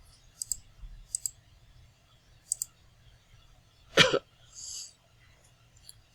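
Sharp, quiet computer mouse clicks come in a few isolated pairs, followed by a loud cough and a brief breathy rustle in an otherwise quiet room.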